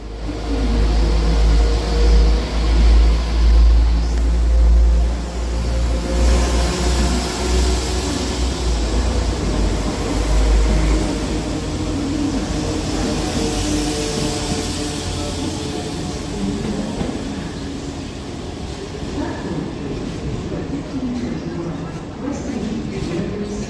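A Class 172 diesel train rumbles into Birmingham Snow Hill station with a heavy low engine throb that eases off, wind and rain noise around it, and voices talking intermittently.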